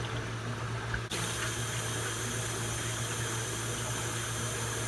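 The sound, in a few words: warm water running for washing off mud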